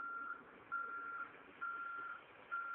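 An ambulance in GTA sounds its reversing alarm, a run of four evenly spaced electronic beeps, faint and steady, with no talking.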